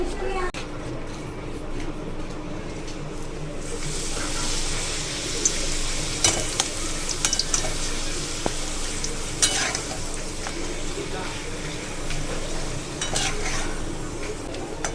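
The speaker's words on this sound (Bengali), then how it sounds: "এখানে তো পাঁপড় ভাজা করছি," Papad frying in hot oil in a home kitchen, with a steady sizzle that swells louder after a few seconds, broken by occasional clinks and scrapes, and a voice talking faintly beneath.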